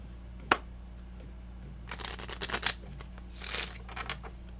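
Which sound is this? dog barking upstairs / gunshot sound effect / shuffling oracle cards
shuffling oracle cards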